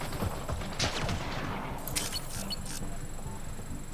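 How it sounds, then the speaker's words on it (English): Rapid automatic gunfire in the video game Mass Effect: Andromeda rattles in a dense, continuous burst, fairly loud, with sharper cracks standing out near the middle. "What the hell is shooting at us?"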